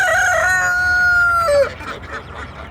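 A rooster crows once, loud and close, the call rising then trailing off into quieter outdoor background noise.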